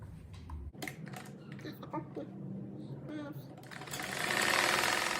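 A sewing machine stitches fabric for a simple cat-shaped door stopper, a fast mechanical whir that builds and grows louder toward the end, preceded by scattered handling clicks and a voice speaking.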